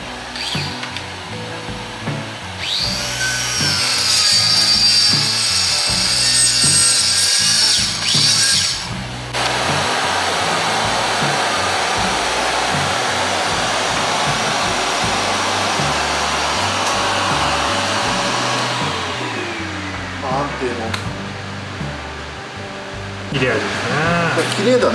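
A circular saw fitted with a diamond-tipped blade spins up to a loud, high whine, then bites into the material with a sustained, harsh cutting roar that lasts several seconds before easing off.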